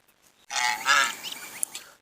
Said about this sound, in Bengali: রাজহাঁস প্রাচীনকাল থেকে আমাদের দেশের গ্রামে রাজহাঁস বেশ পরিচিত একটি নাম